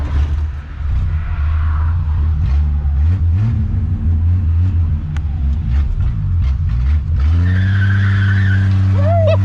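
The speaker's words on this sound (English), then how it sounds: "Let's see if she'll squall a tire." A 1962 Ford Falcon Tudor's engine rumbles steadily, then revs hard as its tires break loose into a long, loud screeching squeal that rises toward the end, with no talk over it.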